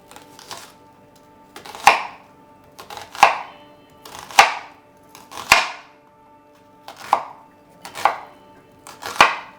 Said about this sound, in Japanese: 玉ねぎに対して包丁の面は こういう扇状で入れていく